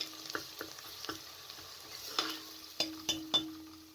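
Soft sizzling of onions frying in a pan with a few stirring scrapes and clinks of a utensil, quiet and close.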